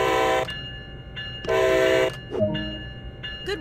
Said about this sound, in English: Use the horn to notify others around that this locomotive is about to start moving. Do this with 2 short blasts.